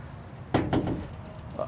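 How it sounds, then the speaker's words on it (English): The oversized tack room door on a Cimarron Norstar three-horse gooseneck trailer swings open with a couple of close, hollow metallic clunks, then a faint knock. "oversized tack room door"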